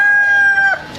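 A Balinese rooster crows loudly and close, a single sustained, strained call that trails off near the end with no other sound around it.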